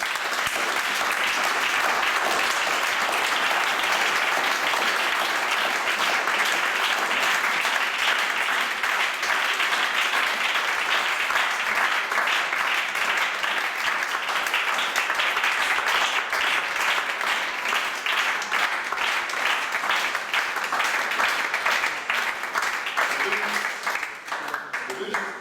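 A church congregation applauding, sustained loud clapping that holds steady for about twenty-five seconds before easing slightly at the end, with voices mixed in.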